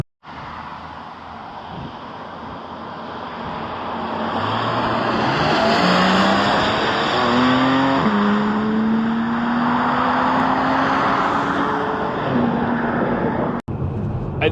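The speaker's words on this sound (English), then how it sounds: "is the flat six, the hollow, tinny type of sound" The flat-six engine of a Porsche 718 Cayman 4.0 GTS pulls while driving on the road, its hollow, tinny drone rising through several gears with audible shifts, loud and steady from inside the car.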